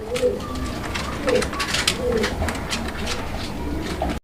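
Fancy pigeons at a wholesale pigeon sale coo in soft, repeated throaty bursts close by, mixed with someone talking and low background bustle.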